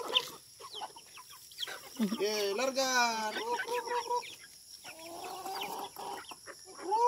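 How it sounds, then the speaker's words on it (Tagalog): Chickens cluck and call repeatedly at a rural poultry farmhouse, fairly close and loud, with people talking over and between the birds. "Wow, ang mga manok guys."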